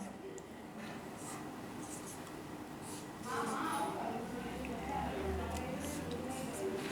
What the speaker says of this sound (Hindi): दूसरा यहाँ लिख लेते हैं